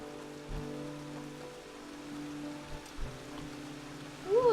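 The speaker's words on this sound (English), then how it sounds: "It's raining now." Rain falling in the video game Enderal, a soft steady patter spread evenly through the clip with a faint tonal hum beneath and a few small knocks, moderately quiet with no talk.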